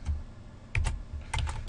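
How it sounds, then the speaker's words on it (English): Clattering keystrokes on a computer keyboard come in short bursts separated by brief pauses, close and moderately loud, while a document is formatted in APA style. No one speaks. "now I'm going to start typing"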